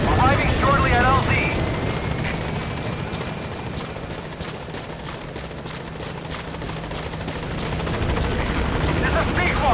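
Helicopter rotor thump from the Metal Gear Solid 5 B-Quad chopper arriving at a landing zone, a steady loud whirring drone throughout with radio-style voices talking over it early and late.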